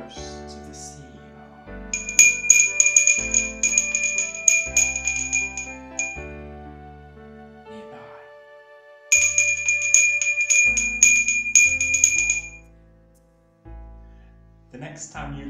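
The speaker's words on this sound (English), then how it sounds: "a little bell begins to shake" Small bell jingling in a cartoon Halloween ghost story about a haunted bell, bright tinkling bursts in two stretches over soft music, with a narrating voice at times.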